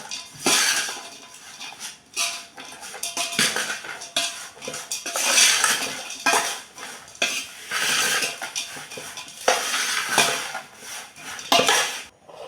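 Spoon scraping and clinking against a bowl as gooseberry (amla) pickle with chilli powder is stirred and mixed, a steady run of busy metallic scrapes close by with no talking.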